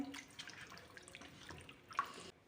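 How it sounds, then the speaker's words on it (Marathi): Water splashes and trickles quietly in a bowl as raw chicken is rinsed clean, faint and close, with small drips and sloshes. "त्यात पाणी टाकलं आहे आता ते स्वच्छ धुवून घेणार आहे"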